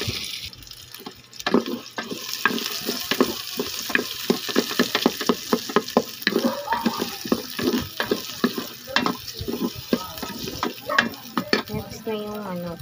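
Chopped onion sizzles in a hot pan, a steady frying hiss broken by a rapid run of sharp scraping and clattering stirs from a utensil, close and fairly loud, with a brief watery rinse near the end.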